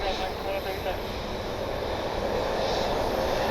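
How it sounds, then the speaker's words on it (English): A Southwest Boeing 737 taxis at Columbus airport, its engines giving a steady, continuous broadband roar that holds level throughout, with a slight swell near the end. "Southwest 737 taxiing quickly over to Delta 3"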